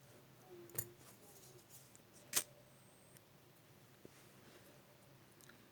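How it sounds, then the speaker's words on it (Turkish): Scissors snip through thread during oya needle lace work: two or three short, faint clicks spaced apart in a quiet room, with no talking. "Ve ipimi burada kesiyorum."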